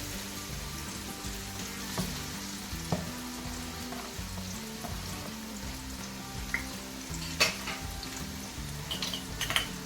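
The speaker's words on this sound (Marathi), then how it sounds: "तर गरम तेल तापलेलं आहे मस्त. आता आपण टाकूया कांदा." Sliced onion fries in hot oil to make birista for chicken biryani, a soft, continuous crackling sizzle with occasional light stirring clicks over steady background music.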